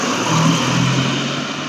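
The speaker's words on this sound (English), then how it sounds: "there's so many cars coming all of a sudden because it's like lunchtime" Steady car traffic on a street at lunchtime, a loud continuous rush of passing engines with a mid-range hum, close by and with no voices.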